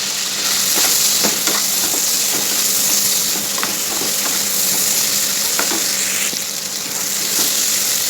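Boiled potatoes sauté in a hot pan with a loud, continuous sizzle and hiss, broken by occasional scraping stir strokes close by.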